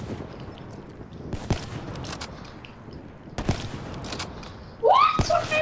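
Rifle gunfire in a video game during a three-way match, a couple of sharp separated shots followed by a closer burst, with game effects around them and a faint voice nearby.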